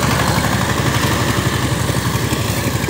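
A 20 HP diesel power tiller with 18 blades drags a harrow through a muddy field. Its engine drones loudly and steadily close by, with a throbbing low chug and no pauses or voices.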